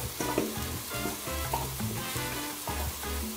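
Ingredients tipped into a hot Peruvian aderezo base in a pan for a fish chupe, sizzling steadily up close with clattering stirs and knocks of a spoon against the pan, no voices.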